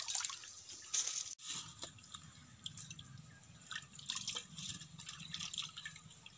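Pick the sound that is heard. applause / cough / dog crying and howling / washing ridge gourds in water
washing ridge gourds in water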